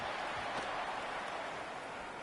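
Steady rain pours over a football field in Madden 26, a continuous hiss of falling drops with no voices, holding even and moderately loud throughout.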